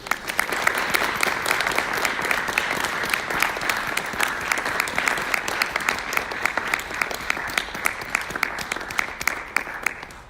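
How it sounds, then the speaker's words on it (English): Audience applause at a university convocation at UPIKE, a dense sustained round of clapping from a large crowd that rises quickly and fades slightly at the end. "Please give Brad a round of applause"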